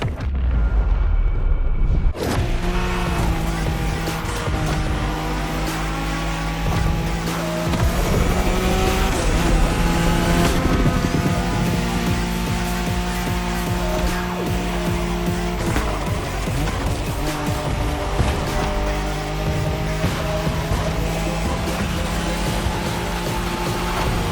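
A Nissan Skyline races flat out in a Wangan highway race in The Crew Motorfest, its engine screaming through gear changes with tire squeal and bursts of impact noise, loud and continuous.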